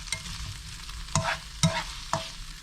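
Green beans stirred into a hot pan for a vegan pasta primavera with olives and balsamic vinegar, a steady low sizzle broken by three or four sharp scrapes of the spoon against the pan, close and fairly loud.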